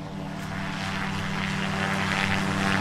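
An airplane engine drones loudly and steadily in the video game The Greyhill Incident, a close, continuous propeller hum that builds slightly over a few seconds.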